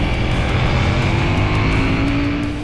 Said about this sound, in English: The LC8C engine gained 90 cc's of displacement and 10 horsepower more than its predecessor, and it's noticeable immediately